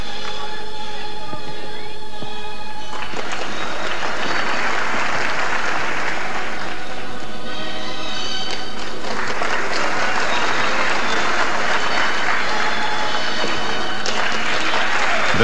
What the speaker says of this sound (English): Big gallery, of course. Huge crowd, really.